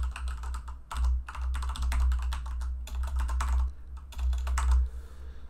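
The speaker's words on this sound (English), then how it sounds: "what I'm going to do is type in the server" Fingers type in bursts on a computer keyboard, with quick clusters of clicks broken by short pauses, close and clear over a low steady hum.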